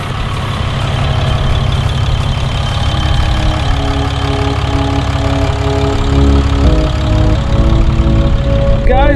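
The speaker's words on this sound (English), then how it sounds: "start this engine, get it in a good heat cycle" A Ram 6.7 Cummins diesel engine idles steadily after a cylinder head gasket job, a loud, constant low rumble with a faint knocking texture and no pauses.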